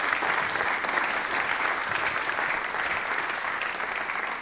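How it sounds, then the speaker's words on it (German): Audience at an energy briefing on synfuels gives sustained, steady applause after a talk, a dense wash of clapping with no speech over it. "Herzlichen Applaus"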